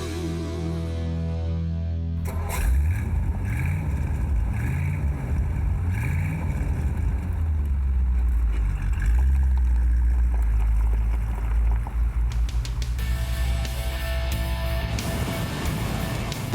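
A first-generation Ford Thunderbird's deep, rumbling 4.8-liter, 200-horsepower V8 idles and then revs, its low throb rising and falling in waves before settling into a steady, loud drone.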